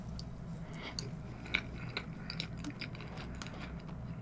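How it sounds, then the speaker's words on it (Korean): Someone bites into and chews fresh strawberries in a crisp, crunchy way at dessert time, with soft close-up bites and wet chewing at an irregular pace and no talking. "딸기가 진짜 신선하네요, 소리가."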